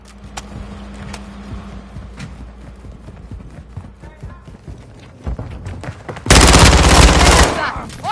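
Gunfire in the multiplayer mode of Call of Duty Modern Warfare 2: scattered sharp shots and clatter, then a loud sustained burst of automatic fire near the end, with voices calling out over the battle noise.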